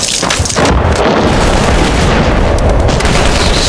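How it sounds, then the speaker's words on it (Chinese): Movie sound effect of several guns fired together in a wartime village battle, a dense loud burst of overlapping booms and blasts filling the clip, with no speech. "我喊一二三，咱们一起开枪"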